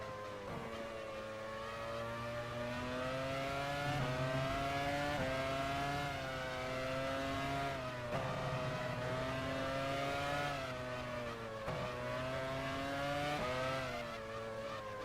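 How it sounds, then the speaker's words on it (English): A Formula 1 racing car engine in a video game whines and revs continuously, pitch rising and dropping with gear changes, steady and loud with no voices. "You can hear a car."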